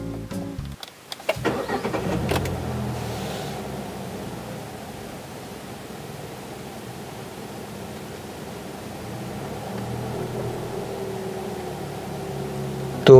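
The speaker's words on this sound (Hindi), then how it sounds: "तो अभी मैं गाड़ी स्टार्ट कर रहा हूँ और देखिए कितना नॉइज आता है।" A Hyundai Grand i10 Nios Sportz CNG hatchback cranks and catches with a short burst, then settles into a steady, muffled idle drone heard from inside the cabin, rising slightly near the end.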